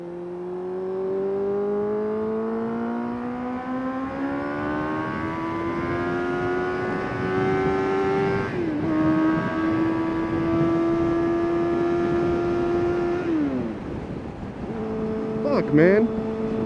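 Suzuki GSX-S motorcycle engine revving, a near, loud whine whose pitch climbs steadily, holds high, dips briefly, then drops off and settles near the end.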